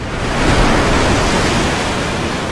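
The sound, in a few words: rushing water in Bioshock 2 video game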